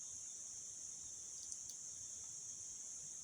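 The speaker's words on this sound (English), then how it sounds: "I sit here day after day listening to cicadas" Cicadas drone steadily with a high, continuous buzzing shrill, fairly faint and distant, holding evenly throughout with a couple of brief louder chirps near the middle.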